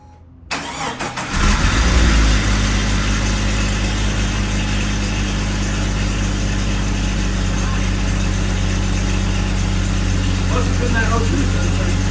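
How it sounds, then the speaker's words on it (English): A 4-link Jeep YJ engine cranks and catches after a second or so of quiet, then settles into a loud, steady idle that runs unbroken to the end. "Let's see if it'll idle now."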